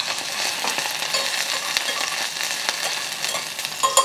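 Chopped ginger and the white parts of green onion sizzle in hot oil for a Chinese steamed fish dish, a loud, continuous close-up frying crackle with faint stirring ticks.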